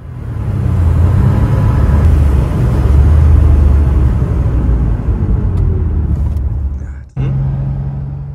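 An original Porsche 911 on a brake test ride, heard from inside as a loud, steady engine and road rumble that eases off toward the end before a brief lull and a lower hum.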